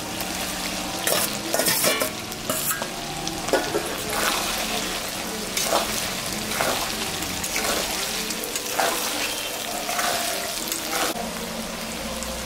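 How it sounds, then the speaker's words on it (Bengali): Fried potato and brinjal pieces are tipped into hot oil and stirred, giving a steady crackling sizzle with scraping stirs throughout, fairly soft and close, without any talk. "এখন আমি ওর মধ্যে আলু আর বেগুন ভাজা রাখছিলাম দিয়ে দিই।"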